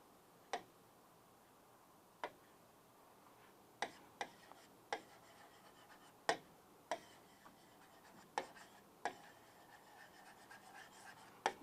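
Pen strokes marking an answer by hand, sparse faint taps and short scratches spaced irregularly across a quiet background, close and unaccompanied by talk.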